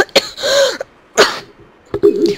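Three sharp, close coughs ring out in quick succession, each a harsh burst with a short throaty tail, separated by brief silences.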